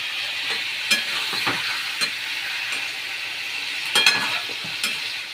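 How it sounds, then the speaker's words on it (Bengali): Chicken sizzles steadily in hot oil, broken by occasional clinks and scrapes of stirring, close and fairly loud. "মাংসগুলো হালকা করে ভেজে নিই, একটু বেশি না, হালকা করে একটু ভাজবো।"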